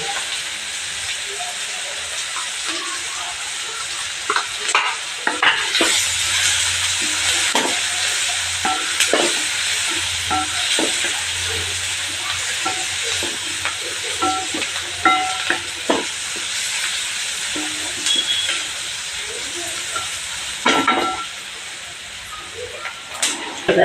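Onions fry with asafoetida and turmeric in a pan, producing a steady close sizzle with intermittent clatter and scraping from stirring throughout.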